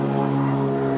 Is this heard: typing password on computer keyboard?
no